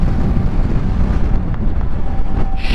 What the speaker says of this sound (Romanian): Să închid că bate vântul.